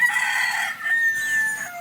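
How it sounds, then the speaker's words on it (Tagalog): A large gamefowl rooster crows once in a long, drawn-out call, fairly close and clear, with no talking. "yung mga malaki naming manok"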